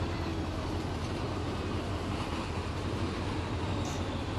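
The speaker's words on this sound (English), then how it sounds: "that passing train was really loud for me" A freight train passes in the Run 8 train simulator game during a Union Pacific West Colton local run, a loud, steady rumbling roar of rolling railcars that fills the whole stretch without pause.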